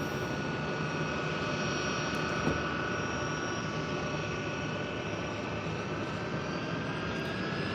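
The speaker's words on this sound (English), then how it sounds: "That is a fun run up right there." Aircraft engine run-up at Tampa International Airport, a constant distant drone with a steady high-pitched whine held throughout at fairly low level.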